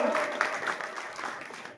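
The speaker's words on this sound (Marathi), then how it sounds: "या ठिकाणी आमदार सचिनदादा पाटील यांचा टाळ्या वाजवून एक शेतकरी कुटुंबाचा आमदार," Crowd applause at an outdoor political rally in Dalwadi village welcoming farmer MLA Sachin Patil: a steady wash of clapping from many hands that holds across the whole moment, moderately loud, with a voice faintly mixed in.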